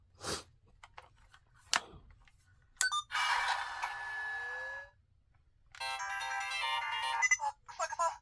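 A Kamen Rider Kaixa Gear CSM toy phone plays electronic ringtone melodies in two loud bursts, separated by short clicks and taps of handling, with no one talking.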